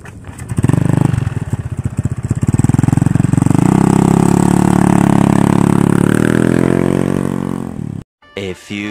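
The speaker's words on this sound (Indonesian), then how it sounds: "Ini orang bawa motor." Motorcycle engine revving close by in the street, a loud buzzing roar that rises and climbs in pitch over several seconds, then cuts off abruptly, followed by brief muffled sounds.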